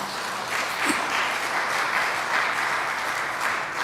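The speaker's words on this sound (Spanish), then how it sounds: "¿Cuántos le dan un aplauso?" A church congregation applauds during a sermon, dense steady clapping from many hands that holds at a fairly loud level from start to finish.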